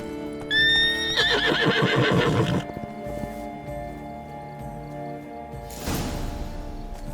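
Horse in The Witcher 3 video game gives a loud, close whinny with rising and falling tones, followed a few seconds later by a brief snort or hoof scrape, over a faint steady game ambience.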